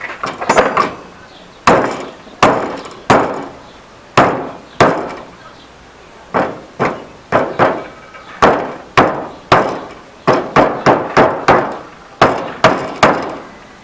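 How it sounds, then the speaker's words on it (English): Repeated heavy blows of a rubber hammer striking a metal bicycle motor-mount bar while bending it, irregular clusters of sharp thuds ringing out close and loud for several seconds. "Then we're going to take our rubber hammer"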